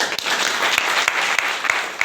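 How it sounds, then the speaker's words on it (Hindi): Audience applause at a health seminar testimonial meeting, a dense, loud wash of clapping from a crowd with a few sharper claps standing out, no speech. "जोरदार ताली"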